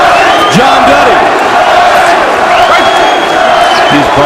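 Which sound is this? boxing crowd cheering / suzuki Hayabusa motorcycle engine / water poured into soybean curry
boxing crowd cheering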